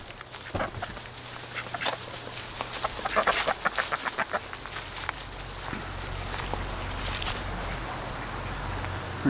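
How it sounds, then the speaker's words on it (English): Chickens clucking steadily nearby, several birds calling over each other in an outdoor yard, with a low background hum. "There's the chickens."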